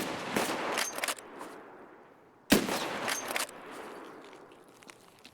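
Several close gunshots crack in a quick cluster, then a single loud shot follows after a short pause, with faint crackling in between, during an Escape from Tarkov raid on Customs in snow.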